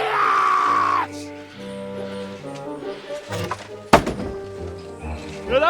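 In the medieval game Kingdom Come Deliverance II, a warning shot strikes a man's leg with a sharp, heavy thunk, preceded by a drawn-out strained vocal cry and followed by pained groaning.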